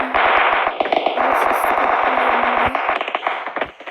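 Uzi submachine gun firing in a video game, rapid sustained bursts of crisp shots with brief pauses, loud and close, ending in a few scattered rounds.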